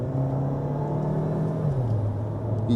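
A Tata Harrier or Safari SUV engine revs up with a steady low rumble, its pitch rising toward the end, heard from inside the vehicle.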